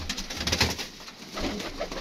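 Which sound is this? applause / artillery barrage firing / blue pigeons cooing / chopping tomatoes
blue pigeons cooing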